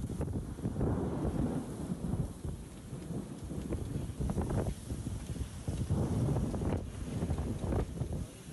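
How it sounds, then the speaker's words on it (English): Thunder rolls in low, uneven rumbles during a heavy rainstorm, with rain steadily pattering on surfaces throughout. "Thunder rumbled across the scarred hills"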